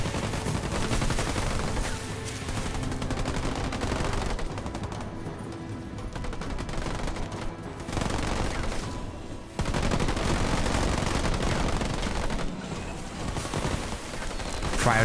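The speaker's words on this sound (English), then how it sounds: "There's just too many Marines shooting at them right now." Massed Marine gunfire in Halo Wars 2 rattles continuously and loudly through the whole stretch, dense overlapping bursts with explosive thumps, pausing briefly only now and then.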